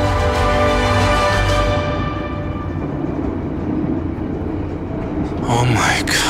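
A long-distance passenger train on Java, Indonesia, with its air conditioning broken. A loud, steady carriage rumble runs throughout, with voices in the background.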